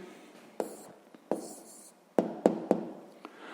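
Pen strokes on paper as an answer is written by hand, a few faint scratches and sharp little taps spaced irregularly, close up and quiet with no talking.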